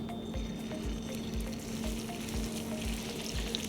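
Salmon fillet seared skin side down in a hot, oiled pan during a chef's glazed-salmon demonstration: a steady, close frying sizzle with soft periodic thumps from the pan, no talking.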